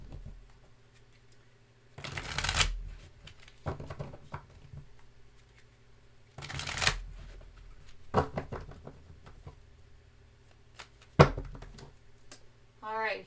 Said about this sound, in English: I'm going to pull a tarot for each of these oracle cards here